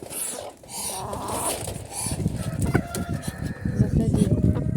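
Chickens cluck and call close by in a rural yard in Druzhkivka, a busy patter of short clucks and a few higher calls over rustling and footsteps, with a faint voice now and then.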